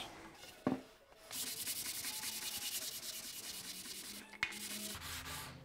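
Rapid back-and-forth sanding with a sponge on a black oak wood finish with a sagging paint job, a rhythmic scratchy rasp with a couple of soft knocks.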